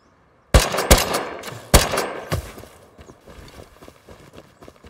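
Several sharp, loud gunshots crack in quick succession in the survival game Rust, a close burst followed by more scattered and quieter shots, with no talk over them.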